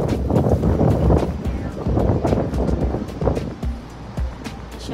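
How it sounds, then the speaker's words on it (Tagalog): Strong wind buffets the microphone outdoors in Berlin on a cold day, with gusty low rumbling throughout and a person speaking over it. "Masyadong mahangin sa Berlin, pero malamig."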